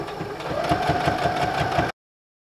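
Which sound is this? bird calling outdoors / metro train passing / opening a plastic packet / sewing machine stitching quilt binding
sewing machine stitching quilt binding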